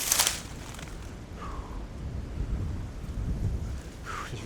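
Strong wind gusts buffet the microphone on an open disc golf course, a broad steady roar with louder surges throughout, with no talking.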